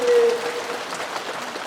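A church congregation applauds during a Korean worship service, a soft continuous wash of clapping that holds steady, slightly reverberant and moderately loud.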